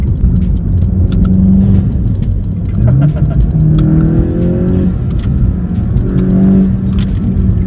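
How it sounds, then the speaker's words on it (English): A 2020 Volkswagen Golf GTI's small four-cylinder engine accelerates and shifts, its pitch climbing then dropping between gears, with a constant road and cabin rumble underneath. "that sounds amazing. For a little 4-cylinder, this thing is loads of fun."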